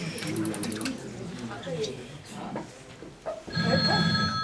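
A telephone rings during a stage play of a comedy performed by an amateur troupe, its bell trilling near the end after a stretch of actors speaking on stage.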